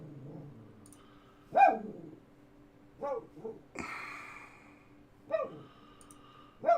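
A dog named Chester barks indoors, close and loud, letting out several separate sharp barks spaced a second or two apart over a low steady room hum.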